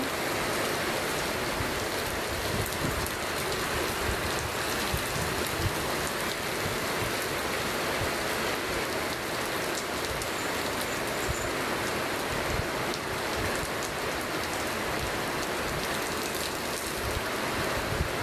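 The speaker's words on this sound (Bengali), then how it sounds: "খুব ভালো লাগছে বৃষ্টি" Steady rain falls outside a netted apartment balcony, an even, dense patter and wash of water that continues without a break, moderately close and fairly soft.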